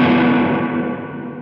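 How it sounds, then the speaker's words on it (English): Electric guitar played through a Line 6 Helix with the reverb placed before the distortion, giving a dense, saturated wash that sustains loudly and fades only slightly, with no talking. "right now we're feeding our reverb through distortion"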